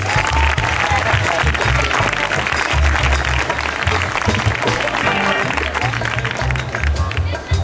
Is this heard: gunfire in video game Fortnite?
no